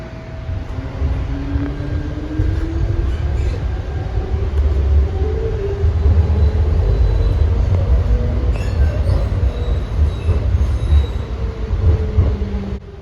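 An ABB-built Baltimore Light Rail tram pulls away from a stop: a loud, continuous low rumble of the moving car with rising wheel and motor whine and occasional squeals, heard from inside with no talking.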